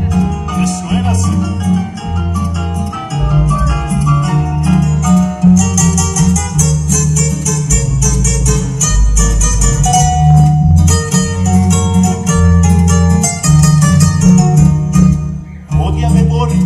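A recording of a Peruvian vals criollo song plays loud and continuous throughout, with steady rhythmic accompaniment and a melody on top, and no talk over it.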